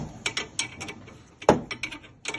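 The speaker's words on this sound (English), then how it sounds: "start tightening the bolt" Tightening a bolt with a 15mm spanner while fixing a Toyota Camry handbrake shoe: a series of short metallic clicks and ratcheting ticks, close and fairly quiet, with one sharper clank near the middle.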